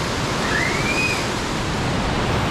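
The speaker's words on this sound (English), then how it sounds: "We are coming closer to the waterfall." A waterfall pours beside a fixed rope climbing route in Austria, a loud, close, unbroken rushing hiss of falling water with a faint whistle-like tone briefly rising over it.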